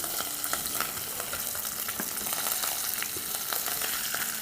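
Spices with ginger, coriander and a medium onion sautéing in a pan, a dense, even crackling sizzle throughout with faint stirring ticks, close and steady, no speech.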